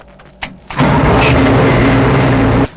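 An M113 armored personnel carrier's engine cranks after a few clicks and catches, settling into a loud, steady, close-up diesel idle that runs almost to the end.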